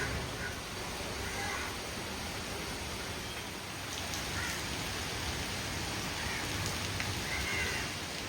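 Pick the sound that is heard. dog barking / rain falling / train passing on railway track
rain falling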